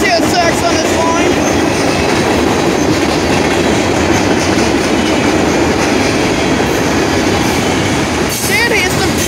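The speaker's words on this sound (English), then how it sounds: "First time I've ever seen a CSX on this line." A CSX freight train rolls past on a line near State Route 19 in Ohio, a steady loud rumble with faint rail clatter running the whole time and a brief squeal near the end.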